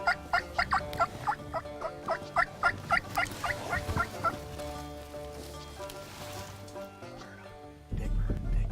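Wild turkey gobbling in full strut, a quick rattling burst of repeated gobbles fairly close and loud, followed by quieter bird and background sounds with brief low talk near the end.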